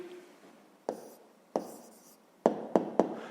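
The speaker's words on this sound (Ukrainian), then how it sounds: "Записуємо тоді відповідь." A pen writes out the answer to a fifth-grade maths problem on crop yield with decimals: a few quiet scratchy strokes, then a quick run of three sharper ones, with no talking.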